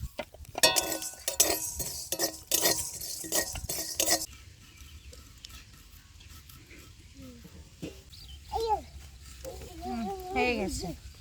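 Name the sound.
dry-roasting whole coriander, cumin, pepper, cinnamon, cardamom in pan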